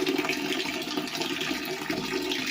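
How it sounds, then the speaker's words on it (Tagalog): Rushing water roars steadily as a toilet flushes nearby, a dense continuous gush with no voices. "Di-flush na rin po yung CR nila."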